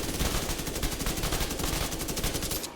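Banshee SMG from The Division 2 firing in a sustained rapid burst, loud and dense rattling shots running close and continuous before cutting off abruptly at the end.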